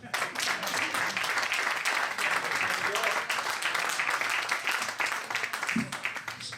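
Dense, steady audience applause fills the room from start to finish, loud and continuous, with murmuring voices mixed underneath at an evening event in Forte Marghera welcoming a musician.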